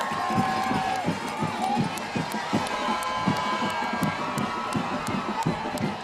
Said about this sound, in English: You can hear the crowd going crazy.